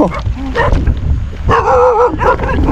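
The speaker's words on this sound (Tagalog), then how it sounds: "Ang dami ng mga aso." Several dogs bark and yip excitedly at close range, overlapping with a person talking in between the barks.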